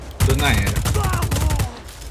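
Rapid gunfire in Just Cause 4, a dense burst of close, loud shots fired in quick succession for about a second and a half before cutting off.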